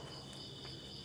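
A cricket chirps steadily in a short, continuous high trill close by, over a faint low background hum with no talking.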